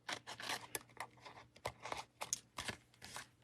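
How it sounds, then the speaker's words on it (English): Short crisp snips and crunches in an irregular series, close up, like scissors cutting through paper or card, with no talking. "So you just cut these pieces off"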